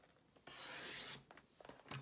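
A paper trimmer blade slices through cardstock in one smooth, quiet rasping stroke of about two-thirds of a second, followed by faint handling clicks.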